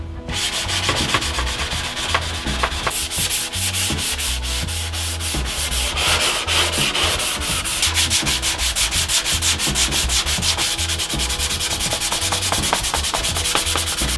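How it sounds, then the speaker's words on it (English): Sandpaper scuffs a faded, rough surface before spray painting, with continuous close rhythmic rasping strokes throughout and no talking. "Trying to get a good scratch layer on it so the paint will stick."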